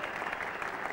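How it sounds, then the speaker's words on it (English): Spectators at Lord's cricket ground in London applaud a fielder's diving save during a 1986 England v India Test match, a brief, even wash of distant crowd clapping. "They take three runs, but the applause very much for Edmonds"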